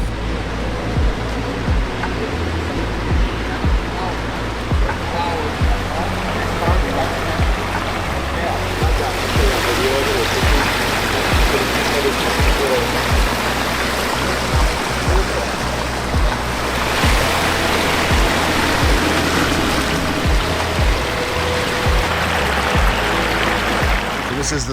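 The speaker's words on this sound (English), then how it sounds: "This is the latest water feature." Water runs steadily through a newly built garden water feature stream, a continuous broadband rush close by that holds level throughout, with faint voices mixed in underneath.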